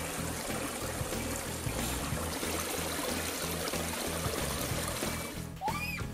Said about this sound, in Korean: 도착한 곳은 집 근처에 있는 작은 계곡